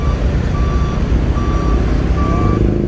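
A Super Double Decker Jetbus 3 Voyager bus reverses with a loud, repeating electronic warning beep over a deep engine rumble, three evenly spaced tones.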